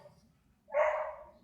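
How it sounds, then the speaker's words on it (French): A single dog bark rings out, fairly close and sharp. A brief quiet stretch comes before it, and the bark tails off quickly. "Maintenant, c'est le chien."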